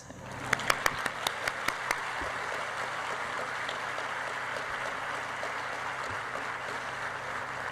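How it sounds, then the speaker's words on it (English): Applause from an audience at a conference opening ceremony: a few distinct close claps ring out at first, then the clapping settles into a steady, rain-like wash that continues throughout. "Another applause."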